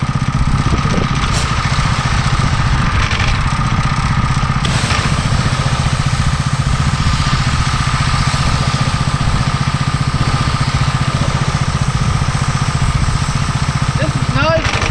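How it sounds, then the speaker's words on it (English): Simpsons 3000 psi power washer running steadily while spraying down a van, a constant loud engine drone with hissing spray, close and unbroken for the whole stretch. "power washer's not revving up real loud, so it's pretty quiet"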